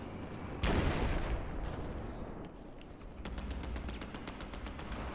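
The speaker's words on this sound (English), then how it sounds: "I'm gonna go quick scoping with grenade launcher." A grenade launcher fires in Battlefield 4 with one sharp, loud blast, followed by a long rumbling decay and faint crackling distant gunfire.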